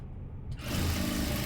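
A sewing machine runs in a short burst while stitching blouse fabric, its motor starting abruptly after a quiet moment and then whirring steadily and close.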